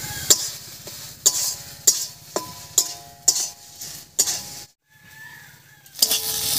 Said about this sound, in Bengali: এবার বেশ কিছুক্ষণ রান্না করে পাতার মধ্যে থাকা জলটা শুকিয়ে নেব।